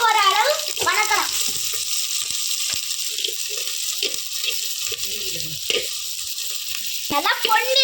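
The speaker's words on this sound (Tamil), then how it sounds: "பொடிசா நறுக்கின பெரிய வெங்காயம், சின்ன வெங்காயம், பூண்டு, கருவேப்பிலை போட்டு தட்டினது எல்லாமே வாசம் போற அளவு வணக்கலாம்" Chopped big onions, shallots, crushed garlic and curry leaves sizzle in a pan for an egg drop curry, a continuous hissing fry with small clinks of stirring. A voice is heard briefly at the start and end.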